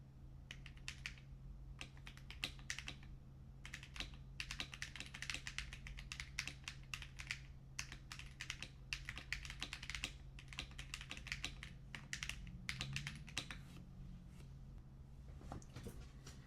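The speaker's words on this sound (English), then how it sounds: "And this is what the keyboard sounds like." Steady, rapid typing on an NSYCA WIN68 HE gaming keyboard with optical linear switches, dense clacky keystrokes running continuously at close range with no talking.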